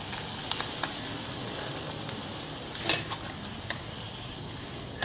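Spam fries with soy sauce and sugar in a canteen cup, giving a close, steady sizzle with scattered clicks and stirring scrapes.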